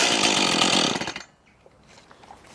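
A Hyundai HTRT 45 chainsaw engine runs loud and close with a buzzing two-stroke roar, then cuts out abruptly after about a second, leaving near silence.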